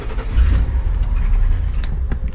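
A van's car engine turns on with an odd noise, giving a short burst of low, rumbling idle close by. Light clicks and rattles sit on top, and no one speaks.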